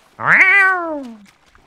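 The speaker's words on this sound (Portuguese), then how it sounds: "Isso é um gato, eu acho." A single clear cat meow in the video game Garry's Mod, loud and close, rising then slowly falling in pitch over about a second, against near silence.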